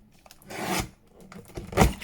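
A paper trimmer slices through a book page in two quick, close rasping cuts, the second one louder.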